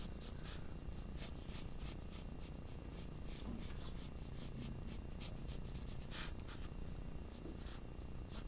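A graphite pencil sketches on paper in a continuous close scratching, made of rapid short strokes that repeat steadily throughout, quiet and with no talk.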